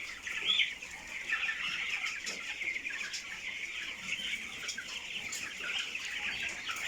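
A large flock of broiler chickens on a farm keeps up a dense, continuous chorus of clucks and chirps, steady and moderately loud, with no talk.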